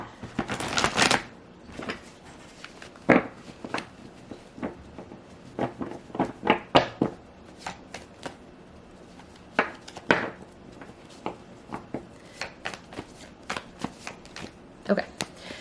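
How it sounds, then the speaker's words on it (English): Tarot cards shuffled by hand at close range, a run of soft riffles and papery slides broken into uneven bursts with brief pauses between them. "Just shuffle for a second."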